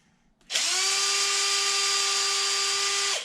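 A power drill spins out bolts on a Traxxas XRT RC truck, one continuous high whine lasting nearly three seconds, close and loud, starting abruptly and cutting off sharply.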